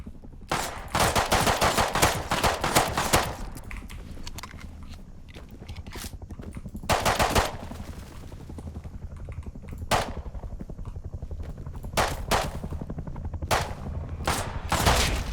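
In a Fortnite-style video game, bursts of gunfire crack loud and close. Sustained automatic volleys come first, then sporadic single shots and short bursts are spaced across the stretch, with no talk over them.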